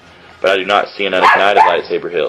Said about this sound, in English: Excuse my dogs for barking.